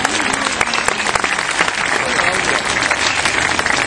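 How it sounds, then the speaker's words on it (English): An audience at an outdoor bird of prey show, with a black-breasted buzzard performing, breaks into loud, dense applause that stays strong and even from start to finish. "Give her a round of applause."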